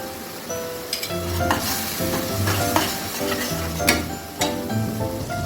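Tomato and ginger paste sizzling in a hot pan, a bright continuous fry with repeated scraping stirs and clanks of a utensil against the pan.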